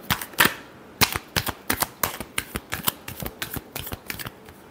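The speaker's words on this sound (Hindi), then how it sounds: "last shuffle" A deck of tarot cards is shuffled by hand in a rapid series of sharp, snappy slaps and riffles at a steady rhythm, close and fairly loud, with nobody speaking.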